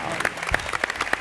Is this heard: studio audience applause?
yes